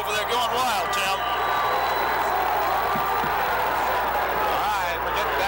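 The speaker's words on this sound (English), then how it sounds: "listen to that Hampton Crabber crowd over there going wild" Crowd noise from Hampton Crabbers fans at a high school football game against T.C. Williams, a steady roaring cheer with whoops, heard at a distance under a play-by-play announcer's talk.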